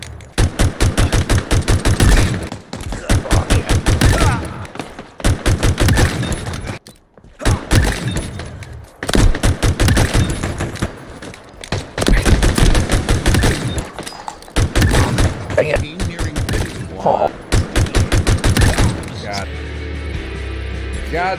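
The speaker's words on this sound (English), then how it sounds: "I gotta kill enemy Spartans with a sidekick pistol again." Rapid sidekick pistol shots in Halo multiplayer against enemy Spartans, crisp repeated bursts separated by brief gaps, with someone talking over much of the firing.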